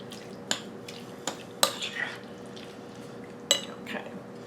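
A spoon stirs cherry pie filling in a pot, giving a few sharp clinks and wet, sticky slurps at uneven intervals against a quiet kitchen background.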